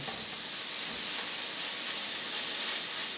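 Onion sizzles in a hot pan, a continuous, even hiss of frying that holds steady throughout with no talking.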